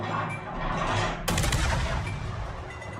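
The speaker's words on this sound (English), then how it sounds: "Now he's shooting at me" Heavy naval guns fire in a World of Warships battle, a dense rumbling barrage that swells into a sharp loud blast partway through and keeps booming afterward.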